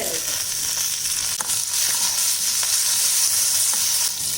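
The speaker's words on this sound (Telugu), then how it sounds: "కరివేపాకు క్రిస్పీగా అయ్యే వరకు వేపాలండి." Curry leaves, urad dal, dried red chillies and cumin fry in hot oil over a low flame for a tempering, giving a steady, close, crackling sizzle with occasional sharper pops and no voices.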